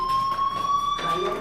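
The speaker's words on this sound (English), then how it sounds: "do you hear that fire alarm? That means you should be outside." A fire alarm rings in the Life is Strange video game, a loud steady electronic tone pulsing in quick repeated bursts, with a voice talking over it.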